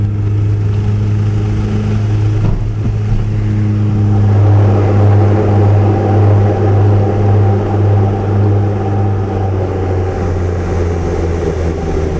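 Steady, loud engine drone of a small aircraft on the flight to Lukla, a continuous low hum with a slight pulsing swell running throughout, no voices.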